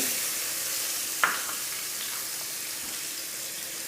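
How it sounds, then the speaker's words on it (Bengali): Two large chopped onions dropped into oil left from frying koi fish, sizzling in a steady moderate hiss with a single sharp clink near the start and soft stirring. "আমি মাছ ভাজা তেলের ভিতর দিয়ে দিচ্ছি 2টা বড় সাইজের পেঁয়াজ কুচি"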